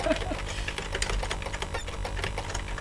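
Rapid, steady keystrokes on an SB-2000 Famicom computer keyboard, a dense run of light clicks close up and fairly quiet, with no talking.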